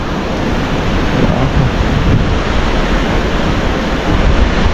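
Rushing water of the Bungabong River irrigation system flows steadily, a dense continuous wash with some wind noise on the microphone.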